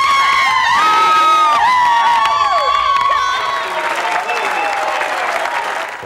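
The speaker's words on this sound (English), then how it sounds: "screaming fans and voters." A large live TV-show audience of fans screams, whoops and applauds continuously, a dense, loud crowd roar with high shrieks that holds steady before easing slightly toward the end.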